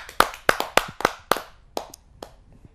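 A scattered handful of claps, about eight quick separate smacks over a couple of seconds, tapering off, as a small audience at a Hindi poetry gathering welcomes a poet.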